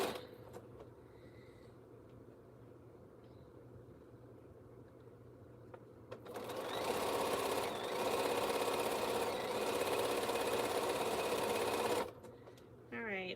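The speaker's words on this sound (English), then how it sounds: "So we're going to sew some cornerstones in the interim." Sewing machine stitching quilt cornerstones runs steadily for about six seconds at close range, stopping abruptly, after a quieter stretch of low room hum and faint movement at the start.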